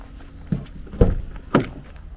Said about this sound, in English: Opening up the rear doors, you see the living area.